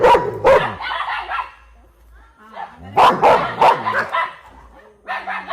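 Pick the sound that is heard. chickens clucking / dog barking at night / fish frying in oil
dog barking at night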